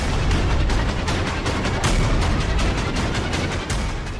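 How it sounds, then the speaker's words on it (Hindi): Loud, relentless barrage of explosions and booms near an airfield outside Kyiv, rapid overlapping blasts forming a continuous rumbling roar with no quiet gaps. "ये कीव के पास एक एयरफील्ड के पास धमाका हुआ है।"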